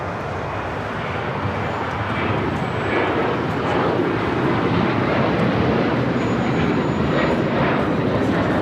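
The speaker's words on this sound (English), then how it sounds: "taking off to Houston Intercontinental on the 737-900ER" A United Airlines Boeing 737-900ER takes off from Los Angeles LAX bound for Houston Intercontinental, its engines a steady, loud, broadband roar that holds and swells slightly throughout.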